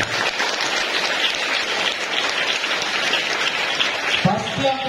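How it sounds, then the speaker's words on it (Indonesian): Audience applause from students and guests at an Islamic boarding school gathering, a dense steady wash of clapping filling the whole stretch, with a brief voice rising near the end. "Tepuk tangan untuk kita semuanya."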